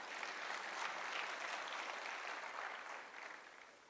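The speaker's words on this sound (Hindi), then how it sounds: "बजा लो ताली," An audience at a motivational talk applauds in a continuous, dense wash of clapping that swells slightly and fades toward the end, faint and with no talking over it.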